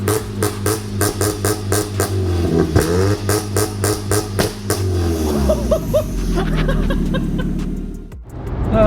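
A car engine on launch control burbles at idle under rapid, rhythmic rev limiter cuts, then revs and pulls away, loud and close, with no speech.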